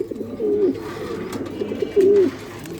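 Pigeons at a pigeon farm in Mirpur 13 coo nearby in two distinct, throaty rolling phrases over light background noise.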